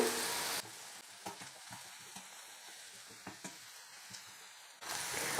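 Onions for egg poriyal frying in a pan, a soft steady sizzle with occasional light stirring clicks, faint and close, framed by louder bursts of hiss at the start and end.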